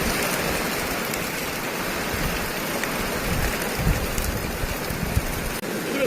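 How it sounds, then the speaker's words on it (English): Heavy rain pouring down hard, a loud steady hiss of drops drumming on surfaces close by, with a few brief knocks and no speech. "Look at it pouring down here front of the tyre."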